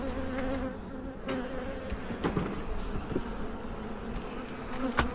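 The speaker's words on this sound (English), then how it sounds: "Lots of adhering bees." A steady, dense drone of many honeybees buzzing close by on a brood frame, continuous throughout with a low hum underneath and occasional faint clicks.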